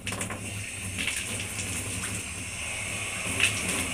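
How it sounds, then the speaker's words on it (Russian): A tap runs with a steady, close hiss of flowing water that carries on evenly, with no voices over it. "Для начала мы включаем воду."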